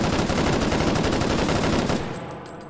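Full-auto bursts from a Galil AR fitted with a muzzle brake in the VR shooter H3VR, a rapid loud string of evenly spaced shots that stops near the end, leaving a brief fading echo.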